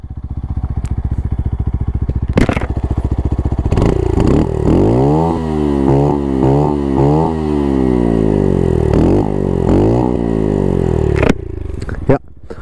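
Brixton motorcycle engine idling in neutral with a fast rhythmic thump, then revved several times in rising and falling sweeps close by, loud and alone before settling back and cutting off.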